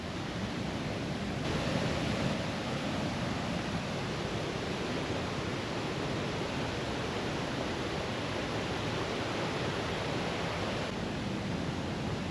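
Continuous broad rushing of a high-flowing waterfall in Linville Gorge, loud and unbroken throughout.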